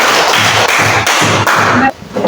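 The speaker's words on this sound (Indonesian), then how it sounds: "semua tepuk tangan dulu" Schoolchildren in a classroom clapping their hands together, loud rhythmic bursts of claps roughly every half second, then a brief drop before the clapping picks up again.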